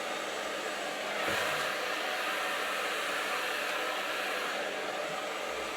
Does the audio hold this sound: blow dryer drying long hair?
yes